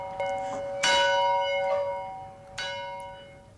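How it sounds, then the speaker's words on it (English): A factory bell signalling the end of work in early industrial America rings out in several separate strokes, each ringing tone hanging and decaying slowly, clear and alone. "and a bell told you when to end."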